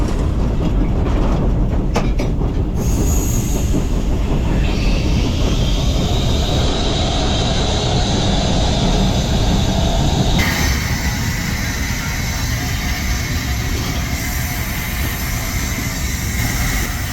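A steam locomotive's boiler water injector on a Bosnian engine runs with a steady, loud rushing hiss over a rumbling engine bed, and a higher whine rises partway through, continuous throughout with no talk.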